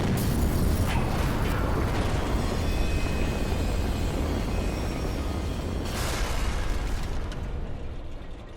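An explosion in the video game Halo 3 erupts as a dense, roaring blast that sustains for several seconds, with a second surge of rumbling debris before it tapers off.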